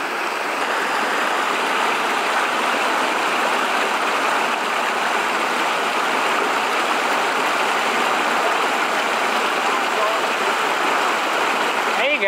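A small waterfall spills into a brook in a remote canyon, giving a steady, even rush of water that stays constant and fairly close throughout.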